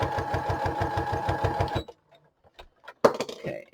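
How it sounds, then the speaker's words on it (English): A sewing machine stitches through a paper policy envelope in a fast, even run of needle strokes, close and loud, then stops abruptly, followed by quiet handling and small clicks. "I'm just attaching it with the sewing machine."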